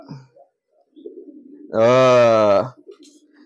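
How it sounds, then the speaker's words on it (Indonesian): A single pigeon coos once, close and clear, a throaty warbling call under a second long amid quiet background. "Ini juga merpati baru tuh"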